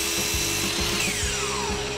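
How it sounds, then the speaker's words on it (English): A miter saw hums with a loud, steady whine while cutting pieces of scrap wood, the blade's drone close and continuous with slight rhythmic variations from the cut. "We're going to cut these down over here at the miter saw."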